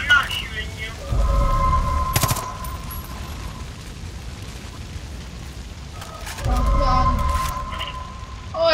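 Gunfire in Far Cry 5 arrives as two heavy low booming bursts a few seconds apart, with sharp cracks and a high ringing tone over a constant game background hum.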